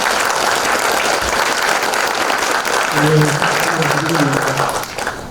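Loud, sustained audience applause for district head Im Taek at a public gathering, a thick roar of clapping with voices rising over it partway through.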